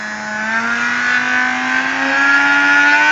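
WT-130 tissue tearor homogenizer motor winding up toward 30,000 RPM, a steady loud whine whose pitch climbs slowly and evenly with bright high overtones, heard alone.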